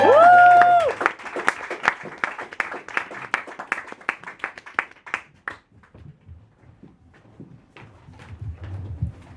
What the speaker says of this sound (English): Your tepid smattering of applause means everything to me.